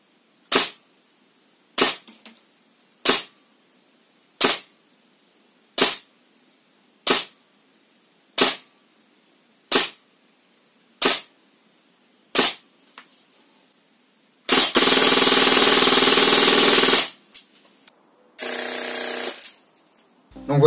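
A VFC Virgo M4 airsoft rifle fires ten sharp single shots through a chronograph at an even, steady rhythm, loud and close, followed by a couple of longer bursts of noise.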